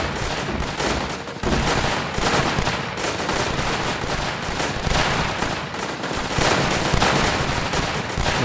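Cannons and guns fire on vehicles in the Northend Tower Defense video game, a dense stream of rapid overlapping shots and booms that never lets up.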